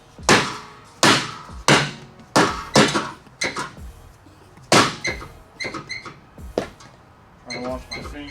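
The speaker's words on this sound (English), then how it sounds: "a little dead blow, tap on the end, kind of acts as a little bit of a impact" Dead blow hammer striking a rusted, stuck brake rotor on the rear hub of a BMW E46, a run of sharp, close knocks at an uneven pace, first heavy and then lighter and quicker.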